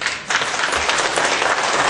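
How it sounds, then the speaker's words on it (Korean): Applause from a lecture-hall audience at a civic forum welcoming a guest lawyer speaker: dense, sustained clapping from a large crowd, steady and loud throughout without voices. "박수 많이 주시기 바랍니다."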